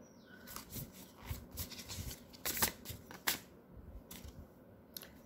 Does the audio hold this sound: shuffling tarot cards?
yes